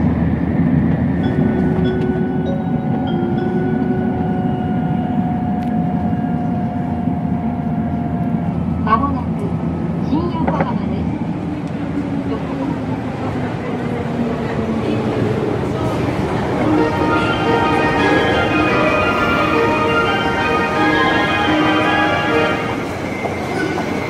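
Inside a train travelling toward Tokyo: a steady low rumble with a droning hum, sustained tonal whines and a faint wheel squeal rising near the end, constant and enveloping throughout.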